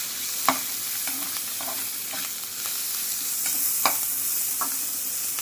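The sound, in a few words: sautéing shallots, green chili and curry leaves with urad dal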